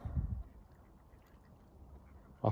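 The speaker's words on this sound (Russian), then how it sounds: "Под пирсом я вижу утку." A duck under a pier gives a faint, short quack near the start and another toward the end, over quiet water and background murmur.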